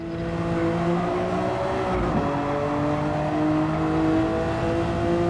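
Engine of a 1966 Jaguar XJ13 racing car at full throttle around the Interlagos circuit in a racing video game, a steady loud high-revving drone with harmonic whine, alone without talk.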